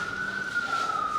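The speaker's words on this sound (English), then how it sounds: "Another freaking ambulance, man." An ambulance siren passes on a city street, a steady high wail held without a break over low traffic rumble.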